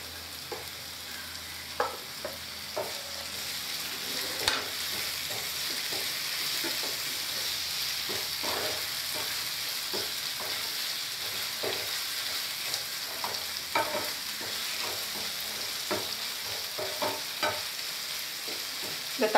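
Chopped tomatoes sautéing in a pan for chicken biryani, with a steady close sizzle and a spoon repeatedly scraping and stirring in irregular clicks throughout, no voices.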